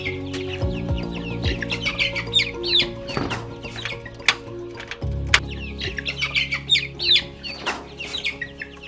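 Chickens at a henhouse of a small poultry start-up in Djiginoum, Senegal, clucking and squawking steadily in a busy chorus, with occasional louder calls and low background rumble.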